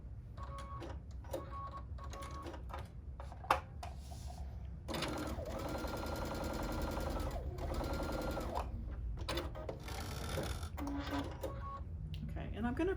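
A sewing machine stitches fabric squares for a November sampler quilt, running in steady rapid bursts with a continuous whirring stretch in the middle, close and clear, with short pauses and handling noises between runs.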